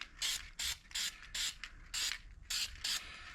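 Spray-on layout fluid from an aerosol can being sprayed onto a metal brake booster part, a series of about eight short hissing bursts in quick rhythm, close and fairly faint, no voices.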